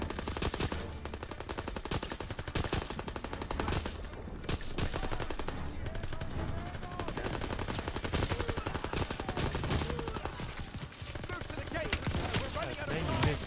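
Rapid bursts of automatic gunfire crackle continuously amid game sounds in Call of Duty: WWII, with occasional speech underneath.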